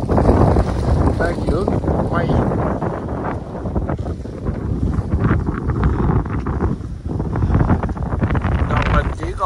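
Strong wind buffets a boat at sea, a loud continuous roar with heavy gusting across the whole stretch, and a voice speaks briefly over it.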